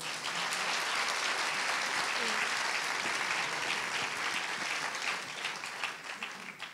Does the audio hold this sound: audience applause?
yes